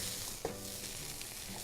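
Duck sears in a hot pan with a dense, steady sizzle close by and one brief clink as the meat is shifted around, with no voices.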